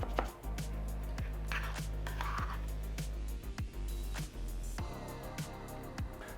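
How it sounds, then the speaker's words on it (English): A knife chops through a baked vegan berry crumble, cutting it into eight portions, with a series of sharp, close cuts repeating at an uneven rhythm over a steady low hum. "I'm just chopping it into 1/8 size."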